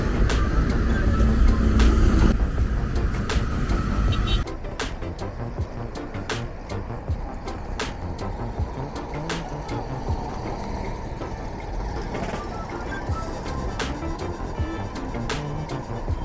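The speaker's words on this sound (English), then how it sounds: "On the left, you have traffic coming from Opebi and Maryland, while the right handles traffic coming from Ojota towards Maryland" Steady road traffic rumbles on a busy Lagos expressway near the Maryland–Opebi–Ojota link bridge, a dense continuous wash of vehicles with faint clicks and brief louder swells, heavier in the first few seconds.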